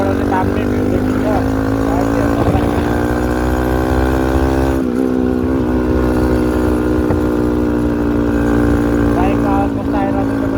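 A motorcycle engine drones loud and steady throughout a ride on the mountain road from Diktel toward Halesi in Nepal, its pitch dipping briefly about halfway through before settling again.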